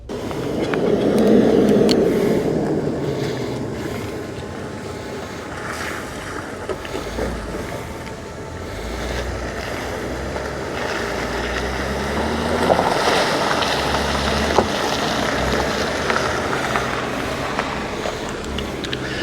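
A 2024 Lexus GX550 Overtrail Edition crawls along an off-road trail, giving a steady, close rumble of engine and tyres that is heavily buffeted by wind noise, with a few light knocks and bumps.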